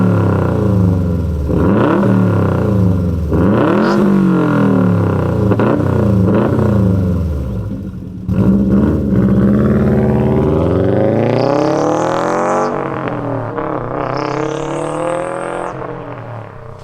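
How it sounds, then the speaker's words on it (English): A 2018 Subaru WRX STI Type RA boxer engine on its stock exhaust, heard close with repeated revs, deep rumbling blips rising and falling, then longer climbing revs with a whistling turbo note toward the end, no talking. "why don't I fire this up so that you could compare it to what the stock exhausts sound like"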